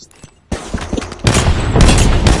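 A frag grenade detonates in the Apex Legends battle royale game, a sudden loud blast at about half a second that rolls straight into a sustained, heavier roar of explosion and gunfire-like crackle filling the rest of the moment.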